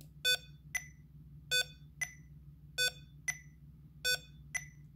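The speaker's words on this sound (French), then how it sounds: "ce bip et ce clignotement me signalent que je suis encore dans la phase de réglage" A small Arduino seismic sensor with an accelerometer gives a repeating pattern of short high beeps, paired chirps recurring every second or so over a quiet hum, signalling it is still in calibration mode.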